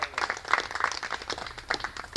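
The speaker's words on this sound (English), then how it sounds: "I also want applause for Shruti Maharaj" Applause for Shruti Maharaj at a spiritual gathering: a short run of scattered hand claps from a modest crowd, fairly quiet and continuous, no voices over it.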